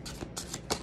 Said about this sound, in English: I'm going to shuffle my deck here